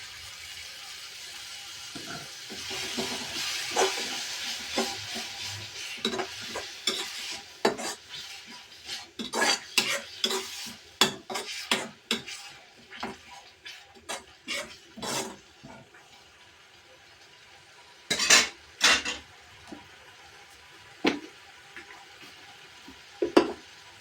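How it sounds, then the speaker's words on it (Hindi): Tomato paste goes into a pan of frying local Srinagar fish curry, bringing a soft sizzle followed by bursts of spoon scraping and clattering against the pot, with quieter gaps between the stirring strokes. "और अब मैंने ये टमाटर का पेस्ट बना के रखा हुआ था, ये इसको डाल देंगे"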